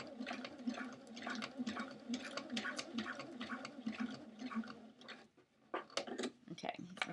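A sewing machine runs slowly while stitching Velcro onto a towel wrap, giving a steady, close rhythmic chatter that pauses briefly and then resumes in short bursts, with some speech alongside.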